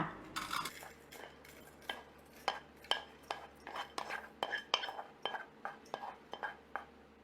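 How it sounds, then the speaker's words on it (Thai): Repeated scraping and clinking of a utensil against a metal pot, a steady series of short knocks as a stir-fried chicken and rice mixture is pushed and poured into the cooking pot, close by. "เทใส่หม้อที่เราจะใช้หุงค่ะ"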